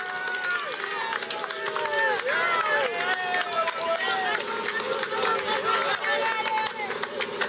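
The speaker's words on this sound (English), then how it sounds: "Listen to the crowd." A large crowd of spectators lines the Alpe d'Huez climb during a cycling race, cheering and shouting loudly and continuously, with whistles and excited voices overlapping throughout.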